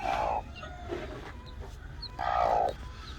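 A hen clucks with guinea fowl chicks beside her, two louder clucking calls at the start and end with fainter peeps in between, close by with no talk.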